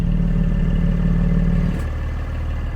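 A Porsche 718 Spyder idles through an exhaust with linking pipes and closed valves, giving a steady low rumble that drops slightly in level partway through, with no talk.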